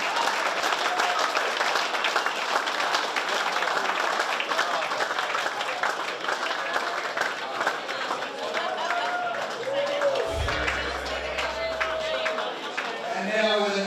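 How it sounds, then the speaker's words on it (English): A crowd at a charity car rally event breaks into applause, sustained clapping rolling beneath an announcer's voice speaking over it. "Big round of applause."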